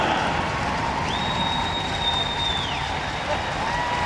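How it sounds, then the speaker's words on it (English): Ice hockey fans fill a Sheffield arena with steady cheering and applause after a Sheffield Steelers v Coventry Blaze EIHL game. The roar holds even throughout, and a long, high sustained tone rises and cuts across it midway. "Plenty of fans have stayed behind and will cheer him around."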